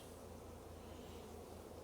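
A steady, faint hum of honeybees at a hive of early splits recently requeened with Hawaiian queens, a continuous low drone with no talking.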